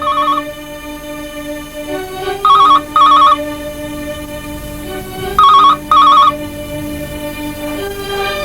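A telephone rings in two repeated double bursts, loud and electronic, separated by a sustained background music tone.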